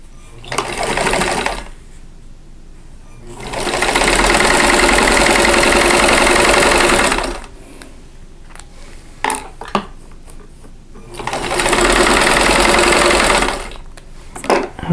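A sewing machine stitches a fabric triangle onto a quilt block in three loud, steady runs of rapid whirring, separated by pauses filled with handling clicks and light knocks.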